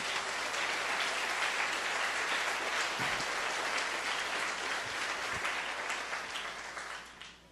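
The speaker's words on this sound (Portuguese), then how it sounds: "Dê um aplauso a Jesus bem forte" A church congregation applauds together in a long, even wash of clapping that holds steady before fading away at the end, heard at moderate distance.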